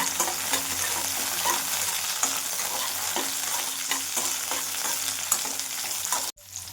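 Onions and green chillies fry in oil for mutton chops, a dense, even sizzle with regular spatula scrapes and stirring taps up close, cutting off sharply just before the end.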